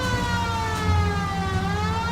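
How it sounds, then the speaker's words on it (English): A wailing police car siren from the video game L.A. Noire rises and falls steadily, loud and close, over a low engine rumble. "Cole, turn on the siren and pull her over"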